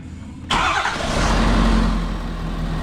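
A Ford F250 truck with a 6.7L engine and a fitted cold air intake cranks and fires up about half a second in, then settles into a loud, steady idle up close.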